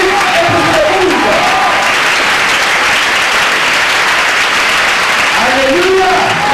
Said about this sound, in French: tu élèves et tu acclames fort pour lui et pour le monde